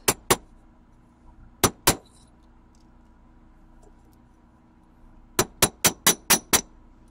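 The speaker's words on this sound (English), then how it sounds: "I'm also gonna hammer my clasp." A hammer strikes a fabricated paperclip chain clasp in sharp, ringing metallic taps: two quick hits, another pair a moment later, then a rapid run of about six, with a quiet background between.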